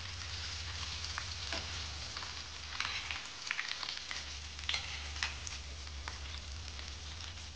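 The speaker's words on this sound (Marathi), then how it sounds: "तसेच आपले हे पण आता पूर्ण फ्राय करून घेते" Chicken patties fry in a pan with a steady, soft sizzle and scattered crackles and pops over a low background hum, with no talking.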